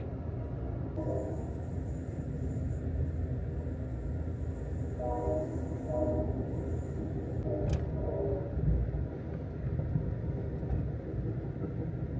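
A passenger train rolls steadily into Tucson, Arizona station with a continuous low rumble and a faint high whine, heard from inside; occasional faint voices murmur in the background.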